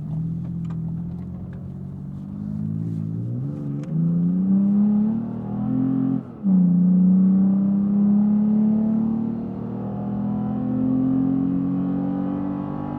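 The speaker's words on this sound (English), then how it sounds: "we turned around and we revved this thing out high" A Toyota Tacoma pickup with an aftermarket exhaust revs hard and climbs high, its droning engine note rising and dipping through repeated throttle pushes, then holding a loud, steady high-rpm roar close by.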